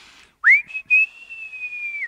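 A loud human whistle rising sharply, then holding a long steady tone that slowly fades, preceded by a faint breathy hiss.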